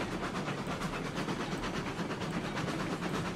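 Rumble of a locomotive in a train video game, a continuous broadband rolling drone with a faint rhythmic pulse, steady and fairly loud, with no speech.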